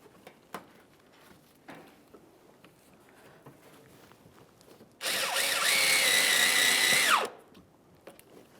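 Power drill whirring for about two seconds as it drives a screw into the front bumper cover of a 2003-2007 Honda Accord, loud and close, with a rising then steady pitch after quiet shop clicks.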